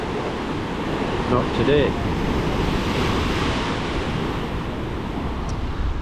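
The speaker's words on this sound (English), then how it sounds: "there must have been a storm last night out at sea to whip the sea up like this" Rough, storm-churned Adriatic sea waves break along the Lapad waterfront in Croatia, a continuous roaring wash mixed with wind buffeting the microphone, and a voice speaks briefly near the middle.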